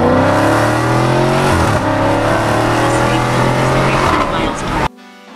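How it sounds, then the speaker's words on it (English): Dodge Challenger SRT Hellcat engine roars loud and close under acceleration, its pitch climbing and dropping through gear changes, with rough crackle before cutting off abruptly near the end; people talk over it. "Backfire."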